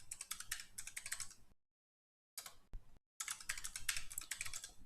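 Quick bursts of computer keyboard typing, close and crisp, broken by a couple of short silent gaps before the keys start rattling again.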